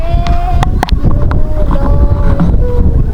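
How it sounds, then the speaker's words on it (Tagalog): Strong wind buffets a microphone in rough, gusty rumbles over a boat's droning engine on a marshland trip in Quezon Province, Philippines, with a few sharp knocks. "lakas ng hangin, sarap ng hangin guys."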